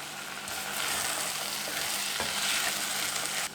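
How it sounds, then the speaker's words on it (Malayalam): Frying masala with chopped mint and coriander leaves crackles in a loud, dense sizzle as it is stirred, steady and close throughout. "അപ്പോൾ ജസ്റ്റ് ഒന്ന് നമ്മൾ ഇലകൾ ഇട്ടിട്ട് ഒന്ന് ഇളക്കി കൊടുത്തിട്ടുണ്ട്."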